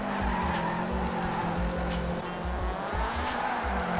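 A race car slides sideways under throttle in the Apex Racing video game, with a steady engine drone and tyre skid noise running continuously and loud throughout.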